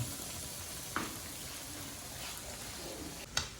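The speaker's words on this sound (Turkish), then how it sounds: "Çift taraflı kızartıyorum ben bunları." Low, steady sizzling of yeasted dough frying in a pan over medium heat, with a couple of faint clinks or taps, no voices.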